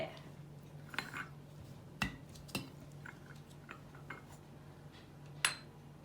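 Metal spoon clinking against a small cup and pot while scooping Turkish coffee and dropping in sugar cubes, several sharp separate clinks over about six seconds in a quiet kitchen.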